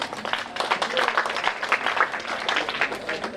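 A crowd at a Telugu one-act play competition applauds in a dense, continuous patter of many hands, moderately loud and steady for a few seconds, with no clear talking.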